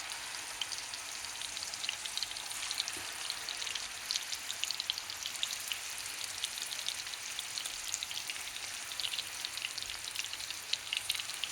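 Koftas frying in hot oil in a pan, a continuous soft crackling sizzle with dense tiny pops, steady and fairly quiet throughout, with no voices.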